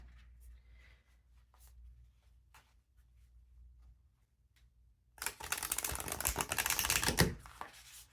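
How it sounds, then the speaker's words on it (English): Oracle cards are shuffled close by, a few soft taps and rustles followed by a dense two-second riffling burst of card edges, then quiet. "Let me shuffle one more time"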